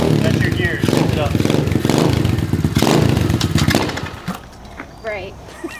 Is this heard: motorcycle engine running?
yes